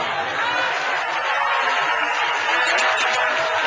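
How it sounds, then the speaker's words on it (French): Audience applause, a dense, even wash of many hands clapping that fills the whole stretch, with a bit of low voice at the start. "Il faut applaudir ça"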